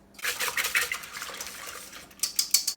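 Yeast and milk being stirred in a bowl make a close, wet swishing with light clinks of the utensil against the side, ending in a few quicker taps.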